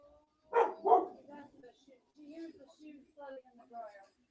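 A young Great Pyrenees barks twice in quick succession from the background, followed by softer voices talking quietly.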